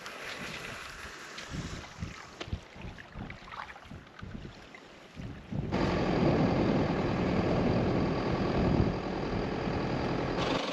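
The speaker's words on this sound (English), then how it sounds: "Just driving along the beach," A vehicle drives along a beach, starting with quiet scuffing and thumps before a loud, steady engine and wind rush takes over for the second half.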